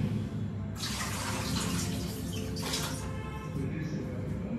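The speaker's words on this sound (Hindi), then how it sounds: "अब इसको प्रेशर कुकर में डाल के उबालेंगे थोड़ा सा पानी निकाल लेती हूँ" Water pours and splashes steadily for several seconds as it drains from soaked mixed lentils in a home kitchen. The flow starts abruptly and runs as a loud, continuous hiss with no talk over it.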